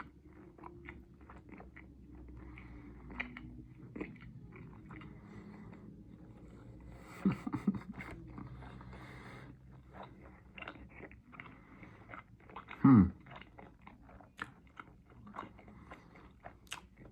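Close, crunchy chewing of a Whataburger burger at a Wake Forest restaurant, soft repeated bites with one loud crunch near the end, no talking.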